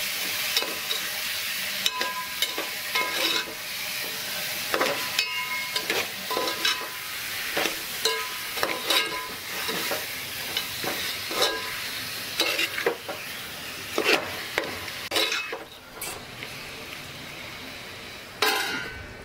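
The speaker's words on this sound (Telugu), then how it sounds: "ఈ చికెన్ని మంచిగా కలుపుకుంటూ దీనిని కూడా మంచిగా ఫ్రై చేసుకోవాలి" Chicken being stirred and fried in a pan for gongura chicken, a steady sizzle punctuated by repeated spoon scrapes and knocks against the metal, close and rhythmic over nearly twenty seconds.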